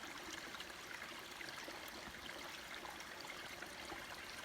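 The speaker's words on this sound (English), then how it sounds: "Nice little stream." A small stream in the Hoffman Notch Wilderness of the Adirondacks flows steadily, its broadband watery rush close and continuous with no talk over it.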